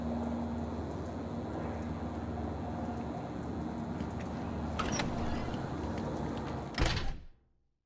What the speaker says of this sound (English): Door's unlocked, man. Come on in.